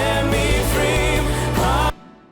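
Broadcast music mix played dry with no reverb, a loud, dense passage that cuts off abruptly after about two seconds into near silence.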